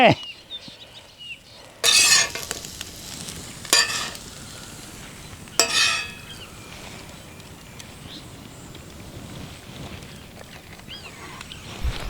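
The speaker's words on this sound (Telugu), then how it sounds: "ఈ పెన మీద దోశ వేసి దాన్ని అటు ఇటు క్రిస్పీగా కాల్చి నెయ్యి వేసి" A masala karam dosa crisps on a pan with ghee, hotel style, with three sharp bursts of sizzle followed by a soft, steady frying hiss.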